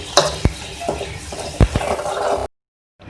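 Chopped onions for masoor dal are stirred in a pan at close range, with sharp clacks of a spoon against metal over a steady sizzle, before the sound cuts off abruptly.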